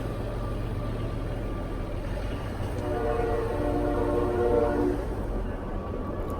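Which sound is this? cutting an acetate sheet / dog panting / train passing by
train passing by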